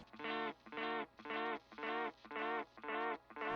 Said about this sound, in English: you can see it's grabbed onto those repeats and it's just playing them back